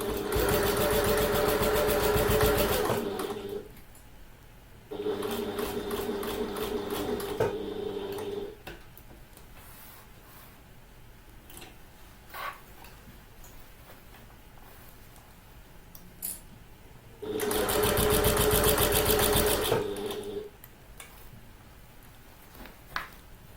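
A domestic sewing machine stitches a handbag in two loud runs of steady whirring, the first of about eight seconds, then a quiet pause, then a shorter burst near the end.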